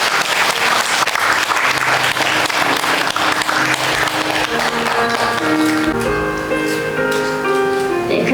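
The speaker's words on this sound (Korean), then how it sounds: "큰 박수 부탁드립니다." Large crowd applauding at a Buddhist memorial tea ceremony for Seju-dang Myoeom, sustained loud clapping throughout, with sustained musical or chanting tones emerging under it toward the end.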